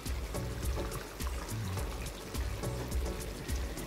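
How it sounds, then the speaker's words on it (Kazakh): Water is poured into a pot of fried meat, carrot and onion, making a steady, close splashing gush with a sizzling, bubbling undertone and uneven surges, loud and continuous with no talking. "су құямыз"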